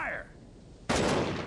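A rifle volley fires on command in the Guild Wars 2 video game, one sudden loud crack that rolls into a sustained burst of gunfire after a voice calls out.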